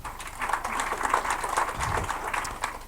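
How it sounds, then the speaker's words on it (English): A crowd claps steadily and densely, applause filling the room at moderate volume without pause. "Let's give them a round of applause."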